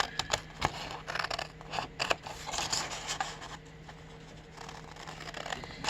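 Scissors snipping through junk-mail paper to cut out a piece of ephemera, a close series of quick, irregular crisp cuts and paper rustles with no talking.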